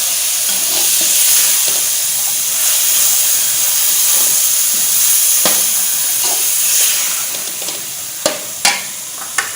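Boiled white chickpeas are stirred into a sizzling spinach curry in a pan, with a loud steady hiss and frying crackle throughout and a few sharp scraping knocks near the end.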